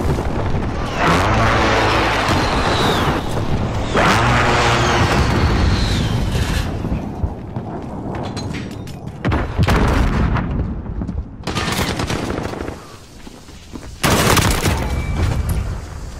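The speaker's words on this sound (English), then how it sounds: "Persistent precision airstrike inbound." Precision airstrike explosions in the Modern Warfare video game, a run of loud, heavy booms and rumbling blasts rolling over each other in waves across the whole stretch, with brief lulls between bursts.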